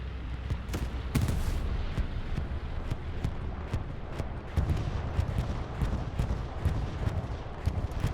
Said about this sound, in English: It's an enemy bombing run.